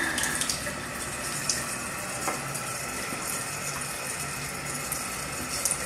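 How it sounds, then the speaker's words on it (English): Tap water rushing steadily through a home water conditioner, a continuous, even hiss of flowing water heard alone and fairly close, without pauses. "The water's flowing through the conditioner as it comes out of the bottom."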